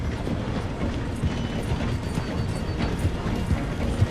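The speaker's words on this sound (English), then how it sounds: "The train is slowing down to go through the station." Train rolling slowly through a station in Red Dead Redemption 2, a steady rumble with rhythmic clickety-clack of wheels over rail joints and mechanical clanks, moderately close.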